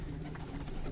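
Pigeons cooing on a rooftop loft in Kasur, a soft low continuous burble at close range with no talk.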